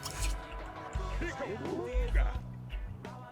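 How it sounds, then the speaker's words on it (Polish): Shower water runs in The Sims 2, a steady splashing spray with dripping and trickling beneath layered in-game voices and talk, while low thumps punctuate the flow. "Nie no, weź prysznic, dobra, weź prysznic."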